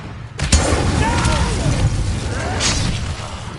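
An Incendio fire spell cast in Hogwarts Legacy bursts out with a sharp crack and then a continuous whooshing, crackling roar layered with swirling magical tones, with a second flare near the end.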